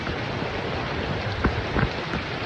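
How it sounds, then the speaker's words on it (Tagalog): Heavy rain pours down in a dense, steady hiss with a few louder splashes and drips near the end, and no one speaks. "Sobrang lakas ng ulan, muntik na akong mabasa."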